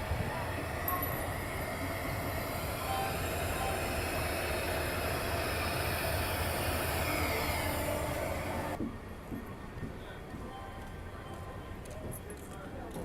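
Moving passenger train hauled by a Bhusawal shed WP4 locomotive, heard from onboard as a loud, steady rumble of wheels and carriage noise that drops in level near the end, with a voice talking over it.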